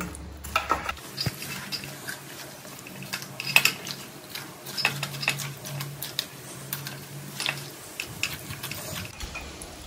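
Condensed milk being stirred into a pot of payasam, with repeated light ticking and scraping of a spoon against the pan under a low background hum, close and steady.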